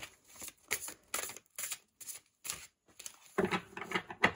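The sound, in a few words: shuffling and drawing oracle cards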